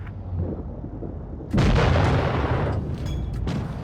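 A tank cannon fires in World of Tanks Blitz, a loud booming shot that bursts in partway through over a steady rumbling game backdrop, with its echo trailing off as a few smaller pops follow.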